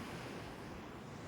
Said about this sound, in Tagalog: Yan ang dagat. Wow, dagat.